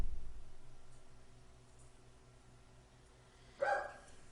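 Pet dogs, one named Wicket, barking and whimpering indoors: a brief burst of barking near the end after a stretch of low background hum, fairly faint and distant.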